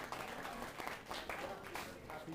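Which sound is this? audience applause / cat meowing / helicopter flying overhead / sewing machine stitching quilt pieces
audience applause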